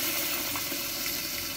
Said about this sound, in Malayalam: അതിലോട്ട് നമുക്ക് ഈ വെന്ത ബീഫിൻ്റെ വെള്ളം കേട്ടോ ആദ്യം ഒഴിച്ചു കൊടുക്കണേ